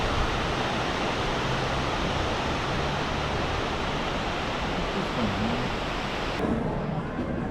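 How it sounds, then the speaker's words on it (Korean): Steady, broad rushing of a waterfall of melting snow fills the scene, loud and continuous, with faint voices murmuring beneath it. "눈이 녹아 폭포가 되어 흐릅니다."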